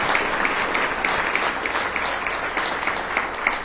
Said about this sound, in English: So let's give them a hand.